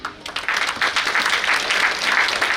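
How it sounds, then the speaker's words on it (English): Sustained applause from an audience at a school annual day celebration, dense and steady clapping filling the hall from start to finish. "a huge round of applause"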